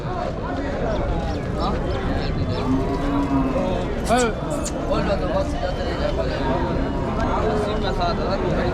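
Cattle moo repeatedly at the Vaniyambadi cattle market, drawn-out calls rising over a busy crowd hubbub, while someone talks close by throughout.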